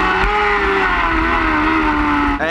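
A racing motorcycle in first gear pulls hard out of a corner on a track, its engine a loud sustained roar that holds steady before surging higher at the end.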